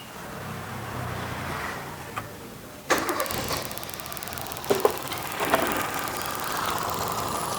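A car engine is cranked and started again, a short whirring turnover followed by a catch into a rough idle with some clatter, heard fairly close.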